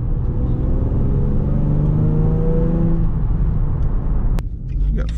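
A Nissan 350Z fitted with a stage 3 clutch drives along, its engine holding a steady, rising drone that eases off near the end, with speech over the car.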